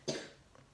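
A person gives a single short cough close by, with a faint softer catch just after, in a quiet indoor room.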